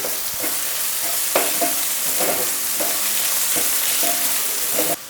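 Crushed garlic and ginger frying with onions in a pan for aloo gobi, heard as a loud, steady sizzle with rhythmic spatula scrapes roughly every half second, close to the pan, with no speech.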